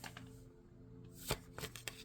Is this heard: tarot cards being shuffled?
yes